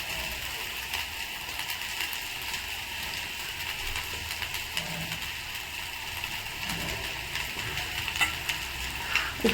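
Rice stirred and fried in a pan: a continuous sizzle with scraping, clattering strokes of a spoon against the pan, steady and close, with no voices.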